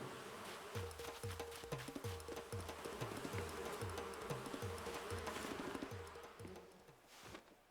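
Insect-like buzzing of flies in Animal Crossing New Horizons, a steady droning hum under a fast run of repeated rhythmic game sound effects, fairly loud and close, with no talking.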